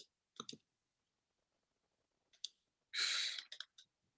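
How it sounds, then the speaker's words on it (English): A computer mouse clicks in close, crisp bursts: a pair of quick clicks, a later pair, then a rapid cluster after a brief breathy rustle. "Yeah, I'm like triple clicking."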